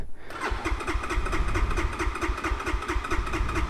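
An X-Pro Templar 250 dirt bike engine starts and settles into a close, loud, rapidly pulsing idle that continues steadily to the end.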